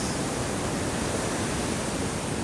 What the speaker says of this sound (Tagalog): Grabe nga kalaking alon guys, dahil sa bagyong Christine guys